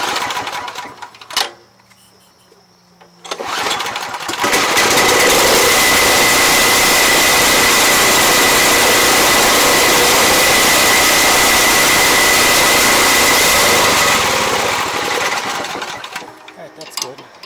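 Snapper 824 snow blower engines idle with a loud, continuous buzzing drone close by for most of the stretch, after brief quieter mechanical clatter at the start and fading at the end.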